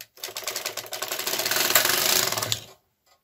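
A KR 230 knitting machine carriage run across one row, a rapid mechanical clattering whir that builds over about two and a half seconds and then stops, close and alone.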